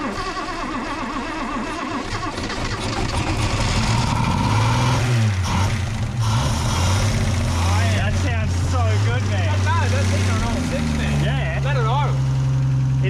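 A classic Holden EJ car engine idles and runs close by, a steady low rumble that rises and dips with a few blips of throttle, while people talk over it.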